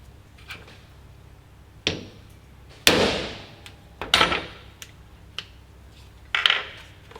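Hammer taps on a paper carburettor gasket laid over the flange to punch a bolt hole: a handful of sharp, separate knocks spaced a second or so apart, fairly close and clear against a quiet room.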